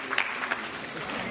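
Wedding ceremony guests clap steadily in a room, a continuous patter of applause with a few sharper claps, the crowd sustaining it throughout.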